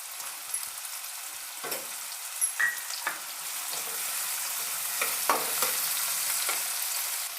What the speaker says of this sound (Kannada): ಒಂದು ಈರುಳ್ಳಿನ ಸಣ್ಣ ಸಣ್ಣದಾಗಿ ಕಟ್ ಮಾಡಿ ಎಣ್ಣೆಗೆ ಸೇರಿಸ್ಕೊಳ್ತಾ ಇದ್ದೀನಿ